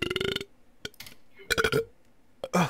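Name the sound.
burp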